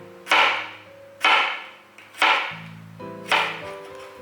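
A kitchen knife slices vegetables into thin pieces on a cutting board, giving four separate crisp chopping strokes about a second apart over soft background music.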